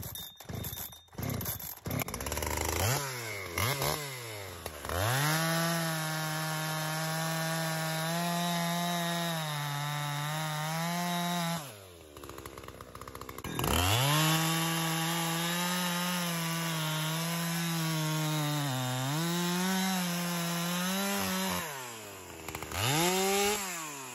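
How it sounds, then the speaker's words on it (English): A Husqvarna 372XP (Holzfforma G372XP) chainsaw with a stalling fault cutting wood, loud and close, its engine rising to a high whine under load and dropping back to idle between cuts. "So we're going to start cutting it up, and I'll film it a little bit,"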